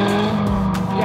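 A Miata Cup race car with Gabby at the wheel passes during a 12-hour endurance race, its engine droning loud and close with a brief tire squeal, steady throughout the short moment.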